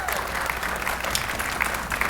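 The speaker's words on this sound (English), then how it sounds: "let's save the round of applause at the end of the blurb just so we can keep this moving" Audience applause at a high school spring orchestra concert, a steady, dense patter of many hands clapping throughout, moderately loud in a hall with crowd murmur underneath.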